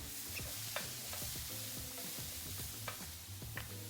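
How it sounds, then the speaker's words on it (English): Minced garlic frying in melted butter in a Le Creuset Signature braiser, a steady close sizzle with scattered soft clicks and taps of a utensil against the pan, no voices. "We're going to add a little bit of butter to the pan and melt that. And we're going to add some minced garlic and cook it just until we can smell it."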